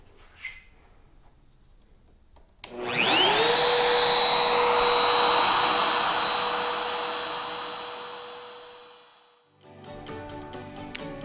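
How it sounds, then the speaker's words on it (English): A router cuts square bench dog holes in a split-top Roubo workbench, spinning up with a rising whine into a loud, steady cutting roar that slowly fades before it stops. "made several passes with each router"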